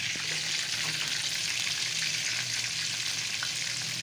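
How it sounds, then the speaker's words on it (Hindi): Mixed pakoras of chillies, aubergine, cauliflower and potato, coated in spiced batter, deep-frying together in hot oil with a steady, dense sizzle that holds loud and continuous throughout, with no talk. "ये सब पकौड़े हम एक साथ ही फ्राई कर लेंगे।"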